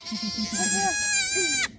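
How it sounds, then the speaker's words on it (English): A baby goat gives a loud, close, quavering bleat that rises and holds before cutting off, heard alone. "You have a goat. You have a baby goat."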